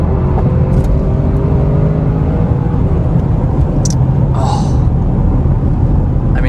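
A 2021 Audi RS6 Avant pulls hard over a bridge, its engine a deep, steady rumble heard from inside the cabin, with road roar throughout and a few faint clicks and voices.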